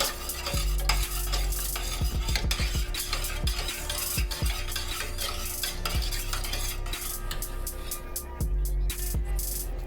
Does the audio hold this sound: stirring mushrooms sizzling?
yes